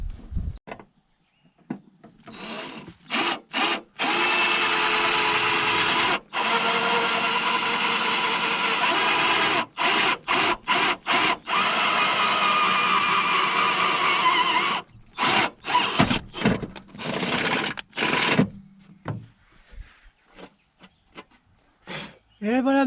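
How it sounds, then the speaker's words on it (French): A power drill bores holes for a battery tray on a Ford Sierra TD, whining in long steady bursts broken by short stops and clicks, close by, ending in choppy handling noise. "Et voilà nos 4 trous percés."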